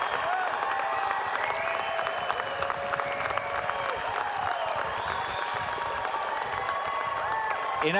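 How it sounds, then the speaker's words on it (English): Steady crowd applause at a winter university commencement ceremony for graduating degree recipients, a broad even wash of clapping heard throughout with a voice speaking over it. "each worthy of their own round of applause"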